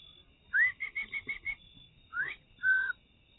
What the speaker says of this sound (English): I'm not good at whistling.